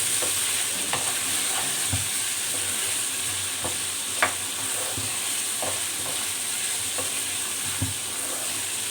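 Lady finger curry stirred in a pan gives a steady sizzling hiss under occasional scraping and knocking strokes of the spoon against the pan, close and continuous.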